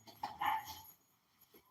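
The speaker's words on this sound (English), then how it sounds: "Puppy's in there playing." A puppy yips and whimpers briefly while playing, a couple of short high cries near at hand, fairly quiet, followed by near silence.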